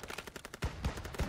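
Rapid gunfire in the Call of Duty WW2 video game, a fast rattle of shots followed by heavier, booming reports within a brief, loud burst of combat.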